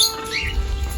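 Parrots squawking at feeding time in Barbados, a brief harsh squawk close by with a low rumble underneath.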